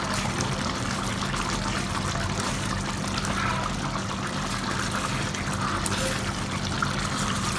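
A pot of boneless masala curry simmering on a medium flame, a soft continuous bubbling and sizzling hiss as its water dries off, steady throughout with no talking.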